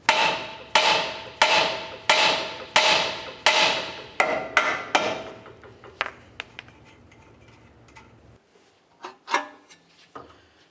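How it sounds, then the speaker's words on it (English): Repeated loud metallic hammer strikes on the outer tie rod of a 1999-2003 Toyota Solara ring out at a steady pace, then slow and fade to a few lighter taps near the end. "Just use a hammer, give it a couple bonks."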